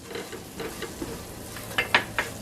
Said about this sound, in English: when you add the flour, you want to mix it until it's well dissolved and well cooked